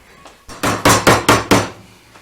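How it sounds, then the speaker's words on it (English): Five sharp, evenly spaced strikes ring out close by, each a hard knock that decays quickly, a chisel being tapped into wood to square up a mortise. "here you can see Konrad squaring it up with a chisel."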